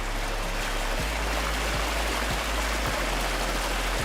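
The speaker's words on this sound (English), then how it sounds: "I added the spigot sound" Running water from a spigot-style waterfall by a tube on a Farming Simulator 22 forestry map, a dense continuous rushing hiss, loud and close, steady throughout with faint low thumps underneath and no voices.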